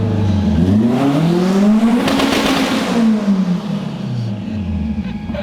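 A 1000-horsepower Subaru STI with a big turbo on its EJ engine accelerates hard, the engine note sweeping up through gears with a loud, close rising whine, then easing off.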